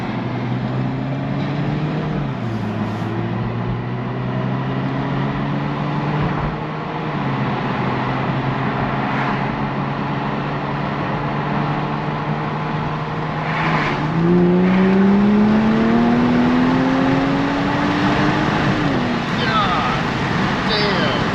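A new car accelerates hard with traction control on, its engine note climbing steadily in pitch through gear changes, loud and close, with an occasional voice over the roar.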